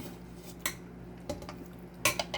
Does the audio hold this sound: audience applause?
no